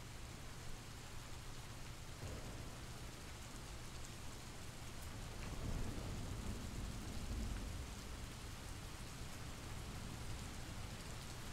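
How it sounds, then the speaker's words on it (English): Rain falls steadily as a faint, continuous hiss, swelling slightly with a soft low rumble midway through. "Are you guys okay with this rain?"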